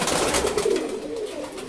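Roller pigeons in an open breeding loft coo softly in a low, wavering murmur over a busy hiss of background noise, close by and continuous.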